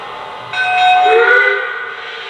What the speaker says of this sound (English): The locomotive will tell you it's entered sequence control mode by hitting 2 bells and a whistle